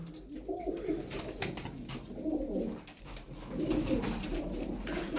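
Pigeons kept in a loft coo softly and repeatedly, low rolling calls rising and falling in overlapping waves close by, with no talk.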